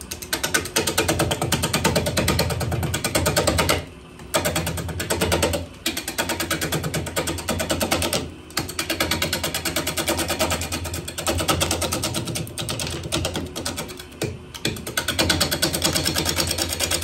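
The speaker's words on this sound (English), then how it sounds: "Five-eighths gouge." A five-eighths gouge cuts a walnut bowl spinning on a lathe, a rapid chattering scrape that runs continuously and loud, broken by a few short pauses as the tool lifts away.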